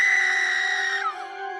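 A woman's sustained high scream in a horror cartoon story, loud and steady for about a second before it breaks and fades into a wavering tail.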